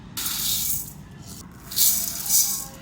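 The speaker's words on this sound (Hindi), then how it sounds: "पानी डालूँगी" Water poured onto two cups of basmati rice in a container to wash it before soaking for aloo tahari, a close splashing gush that comes in several uneven bursts.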